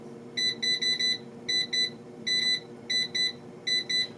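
An OMORC air fryer beeps while its timer is being set: a run of short, bright electronic beeps in uneven clusters, close and clear over a low hum.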